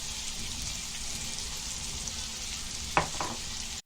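Chopped onions with salt frying in hot oil for a Konkani thali, a steady close sizzling hiss throughout, with one sharp utensil clink near the end and no talking.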